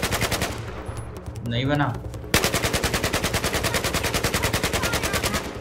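Battlefield 4 gameplay gunfire: after a short quieter stretch with a brief spoken voice, a machine gun fires a long, loud, steady rapid-fire burst of evenly spaced shots close by.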